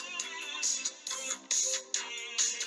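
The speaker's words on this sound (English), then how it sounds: "which is a little bit like a cash register ringing" Bright, metallic cash-register-like ringing chimes recur in short bursts within an 80s pop song, with synth and guitar tones sustaining underneath.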